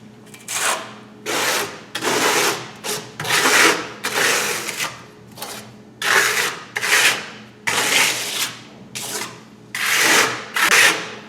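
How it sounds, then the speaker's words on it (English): A trowel spreads the first untinted coat of deco lime plaster for a fossil finish over a textured wall, making repeated rasping, scraping strokes in a steady rhythm, close and fairly loud with brief pauses between passes. "Now we're going to put on the first coat of deco lime for the fossil finish."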